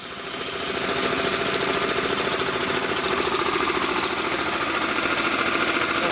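An Emglo air compressor runs steadily at close range, its engine producing a dense, rapid mechanical chatter that holds constant without pause or voices throughout.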